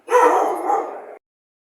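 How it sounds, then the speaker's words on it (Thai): A single dog barks and yelps in a short, loud burst inside an old temple hall, then goes quiet. "ข้างในมีสุนัขด้วยนะครับ กลัวมันจะกัดนะครับเห่าตลอดเลย"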